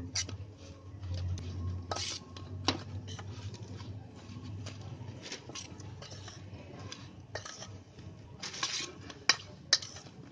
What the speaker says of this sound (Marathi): आता हे सगळं आहे ना पहिलं असं मिक्स करून घ्यायचं मसाला.